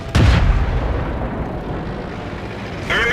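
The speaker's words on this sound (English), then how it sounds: "Enemy vehicle destroyed." A tank in a tank combat video game is destroyed by gunfire: a loud, sudden explosive boom that rumbles on in a sustained roar, with a second burst near the end.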